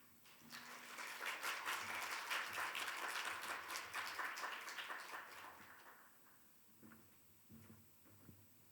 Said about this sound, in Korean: 엘레인 축한 브라운을 큰 박수로 환영해 주시기 바랍니다